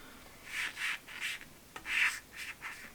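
Pencil strokes on paper while drawing a comic book face, a series of short, close scratchy rubs in an irregular rhythm with brief pauses between them.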